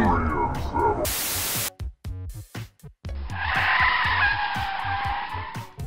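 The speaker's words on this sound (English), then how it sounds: "Admittedly, the brakes of this truck are really solid." A truck braking hard and skidding, a sustained loud broadband screech lasting a few seconds, set among other engine and crash noises with a burst of static earlier.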